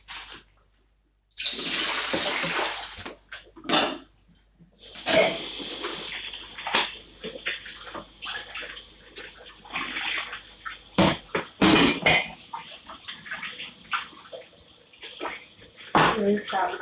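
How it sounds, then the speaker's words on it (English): Water runs from a tap while cooking utensils are rinsed after preparing groundnuts and yam katogo, a steady close splashing with brief gaps and clatters, interrupted by short bursts of louder gushing. "Rinse out my utensils and put them away."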